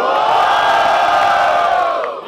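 A large crowd roars and shouts together at a student rap battle in Guarulhos, São Paulo, loud and sustained for a couple of seconds before tapering slightly.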